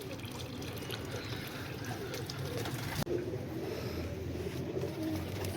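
Pigeons cooing softly and steadily around a tray of alum-treated water set out for them to bathe in, with a brief sharp knock midway through and a continuous rustling bed of background noise.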